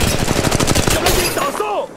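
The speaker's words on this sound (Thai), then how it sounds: "กำลังยิงต่อสู" In Apex Legends Mobile, a quick run of near, loud gunshots fires in rapid rhythm before breaking off into quieter game sounds.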